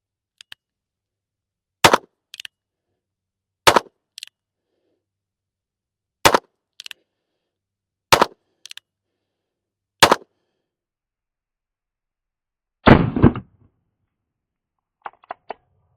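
Sharp gunshots from an NAA 22 Short mini revolver at an outdoor range, five single cracks spaced about two seconds apart, each with a brief echo, then a louder burst and a few faint clicks at the end.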